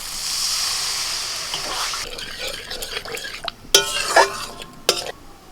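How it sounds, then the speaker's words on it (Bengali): Water is poured into a pan of oily, well-fried coriander-leaf spice masala, giving a hissing, bubbling rush followed by stirring clatter and a few sharp metallic knocks against the pan. "মশলাটা বেশ ভালো করে কষিয়ে নিয়েছি একটু তেল ছাড়া ছাড়া হয়ে গেছে এবার জল দিয়ে দিচ্ছি"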